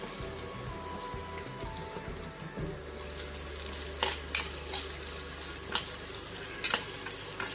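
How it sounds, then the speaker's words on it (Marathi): Chopped onion sizzles steadily in a pan for Punjabi-style chole masala, a close, continuous frying crackle with occasional scrapes and clinks of stirring. "कांदा छान सोनेरी रंगावर परतून घ्या।"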